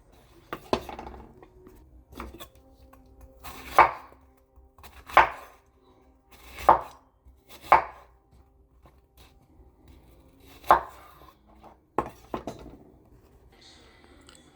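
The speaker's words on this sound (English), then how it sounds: "Okay, so I diced up all the apples." Apples being sliced with a knife on a cutting board, a series of sharp separate chops at uneven intervals against a quiet background, close and distinct, with faint handling noises between strokes.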